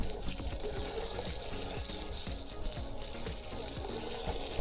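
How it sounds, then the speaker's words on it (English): Fresh water runs over a Telesin dome port for a DJI Osmo Action 5 Pro, rinsing off salt water in a steady, close splashing stream under a tap, with no voices. "you want to make sure you rinse it with fresh water"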